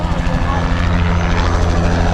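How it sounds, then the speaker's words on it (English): A helicopter flying overhead on sightseeing joyrides gives a loud, steady rotor thump and engine roar that fills the whole stretch, close and unbroken. "They're obviously doing helicopter joyrides."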